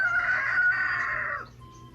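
A rooster crows once, loud and close, a single drawn-out call lasting over a second before trailing off into quiet.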